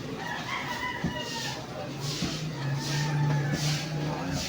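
Chickens cluck and call amid busy outdoor background noise, with people talking nearby.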